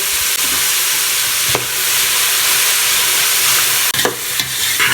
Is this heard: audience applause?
no